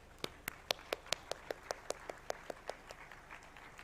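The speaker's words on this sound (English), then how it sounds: "give them a big hand of applause" Spaced, distinct hand claps ring out at a university convocation for graduates, a steady rhythmic series of fairly faint claps in a reverberant hall, without a full crowd roar.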